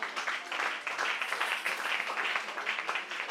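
A church congregation applauds the Lord, a steady wash of many hands clapping at moderate level without pause, filling the space evenly.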